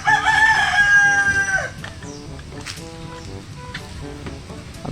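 A rooster crows loudly and close at the start, followed by softer clucking from chickens on a farmyard, with scattered faint bird chirps in the background.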